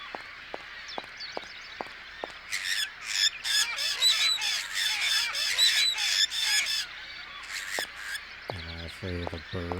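Birds squawk and honk in a dense burst in the Syberia game, with sharp clicks before and a rapid repeated call at the end, moderately loud against a quiet ambient background.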